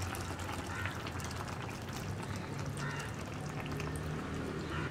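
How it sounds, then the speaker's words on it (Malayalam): First coconut milk is poured over a brinjal curry with the flame off, making a soft, continuous liquid pour and gentle bubbling that is faint and steady, with no voices. "ഇനി ഇതിൻ്റെ മുകളിലായിട്ട് നമുക്ക് നമ്മൾ എടുത്ത് വെച്ചിരിക്കുന്ന 1ാം പാല് ചേർക്കാം."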